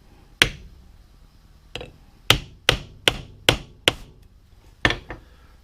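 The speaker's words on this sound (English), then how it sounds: "I'll take my rock hammer because it's got some punch behind it." A rock hammer delivers sharp metallic strikes onto a stack of springs for a Tamiya Grand Hauler RC truck, about eight distinct blows with an irregular rhythm and quick decays, loud and close in an otherwise quiet space.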